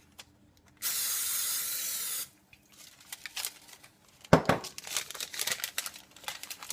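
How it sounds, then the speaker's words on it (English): Cooking spray sprayed into a cake pan in a single steady hiss lasting about a second and a half, followed by crinkling and rustling handling noises. "I'm going to spray this."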